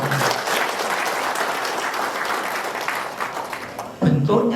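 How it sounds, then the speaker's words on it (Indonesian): Loud, sustained applause from a sizeable crowd, clapping steadily throughout before a voice cuts in at the very end. "Tepuk tangan untuk IG ya Pak."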